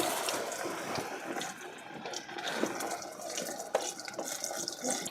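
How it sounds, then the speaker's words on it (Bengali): Slices of pointed gourd fry in hot oil, giving a steady, close sizzle with scattered crackles and pops throughout and no one talking. "তো এখন আমি এই যে তেল গরম হয়েছে দিয়ে দিলাম।"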